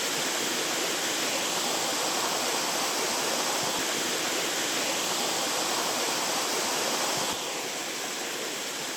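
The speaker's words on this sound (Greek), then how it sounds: "Ο ήχος του νερού σπάει τη σιωπή" A waterfall on a hidden trail in a Carpathian mountain reserve, a loud, continuous rushing roar of falling water heard close up, steady and unbroken for the whole stretch.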